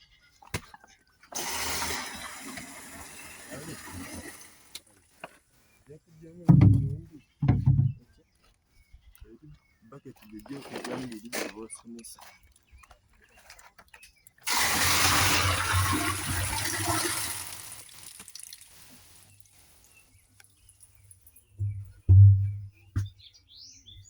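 Water being collected at an organic homestead garden: two long gushing, splashing bursts, each followed by heavy thuds, with quiet gaps in between and faint birdsong in the background.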